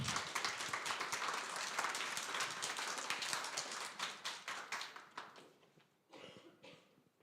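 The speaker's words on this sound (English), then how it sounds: "Give them a big applause, please" An audience at an education technology hackathon's final pitches applauds a team coming on stage, a dense round of clapping that thins out into a few scattered claps before dying away.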